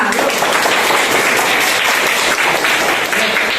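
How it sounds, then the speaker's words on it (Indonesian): A classroom of schoolchildren applauds steadily, dense hand claps blending into a loud, even wash that holds throughout. "saya tepuk tangan untuk kelompok 2"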